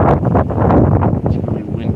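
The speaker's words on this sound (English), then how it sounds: "It's really windy right now." Wind buffets a microphone outdoors beside a stream, a low gusty rumble running under a nearby voice for the whole moment.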